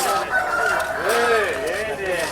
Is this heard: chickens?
yes